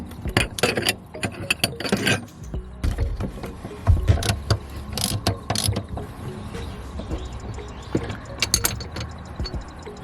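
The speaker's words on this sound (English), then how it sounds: "I'm using a T50 Torx on a 1/4" drive to undo these 2 bolts at the front" A 1/4-inch drive ratchet with a T50 Torx bit and extension undoes front seat bolts in a Ford Ranger, giving repeated rapid clicking strokes in irregular bursts, close and clear, with no talk.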